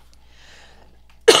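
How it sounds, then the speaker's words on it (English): A single sudden, forceful cough bursts out at the very end after near silence, close and loud. "sorry, I need to cough,"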